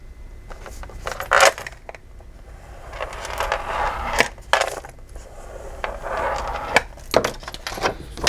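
Cardstock is scored along a fold line with a series of short, sharp scraping and tapping strokes up close, separated by quieter pauses, with no talking.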